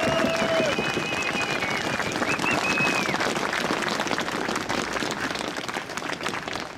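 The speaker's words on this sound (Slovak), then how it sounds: "Hneď teraz na úvod pre vás všetkých obrovský potlesk." A large street crowd applauds at a protest rally in Trnava, Slovakia, with loud, dense, sustained clapping and some cheering, fading slightly toward the end, while a whistle-like tone rises briefly over it.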